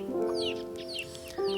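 An American Brahma rooster and hen cluck close by, a steady run of throaty calls with a louder burst near the end, with no one talking.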